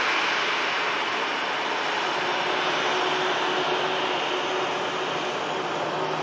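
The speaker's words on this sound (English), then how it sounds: "Ryanair from Belfast just vacating." A Ryanair airliner from Belfast taxis clear of the runway at Manchester Airport in thick fog, a loud, steady jet-engine roar that stays constant throughout.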